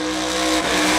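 Drag racing cars at a Moser Engineering Triple 12's event in New Boston, Michigan, roaring loud and steady at close range, a dense continuous engine blare with no talk.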